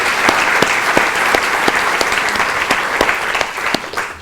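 Audience applause at an eloquence competition event, dense steady clapping from a room full of people, loud and sustained without a break.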